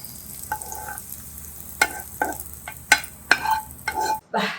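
A tempering for curry leaf chutney frying in a pan: sharp, scattered pops and crackles burst over a soft, steady hiss, close and fairly loud.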